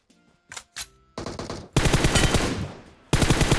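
Bursts of automatic gunfire in the PUBG Mobile battle royale game: a few short separated shots early, then loud sustained rapid fire that breaks off and resumes, with no talk over it.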